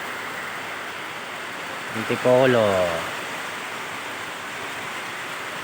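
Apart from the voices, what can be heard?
rain falling during air conditioner installation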